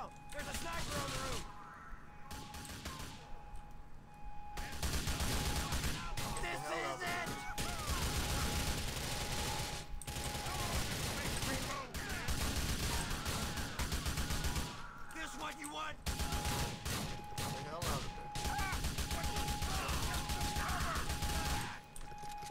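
Gunfire in GTA Episodes from Liberty City during a rooftop sniper fight, dense sustained shooting and crashing in long stretches with brief pauses, under a steady tone and shouted voices.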